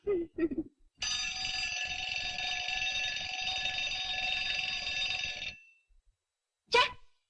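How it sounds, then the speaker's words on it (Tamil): A bright electric bell rings steadily for several seconds, loud and close, after a couple of short voice sounds, then stops; a brief shout follows. "நான் தான் அலாரம் வச்சேன்"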